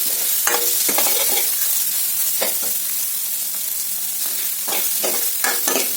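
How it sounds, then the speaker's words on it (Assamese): Lentils being stirred and fried in a pan, a close, steady sizzle broken by repeated scraping strokes of a spoon against the metal, with no talking. "দি এতিয়া মই ভালদৰে আকৌ এনেকৈ লৰাই দিম।"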